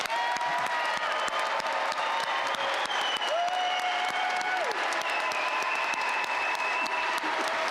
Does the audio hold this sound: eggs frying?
no